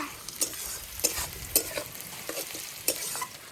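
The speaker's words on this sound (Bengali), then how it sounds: "পেঁয়াজগুলো আমার লাল লাল করে ভাজা হয়ে গেছে" Onions frying until reddish-brown for an egg curry sizzle in a pan with a steady crackle, broken by several sharp scraping stirs at irregular intervals; no voices.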